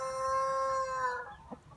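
A village rooster crowing, a single drawn-out tonal call that fades into a short cluck, heard at moderate distance against quiet rural background.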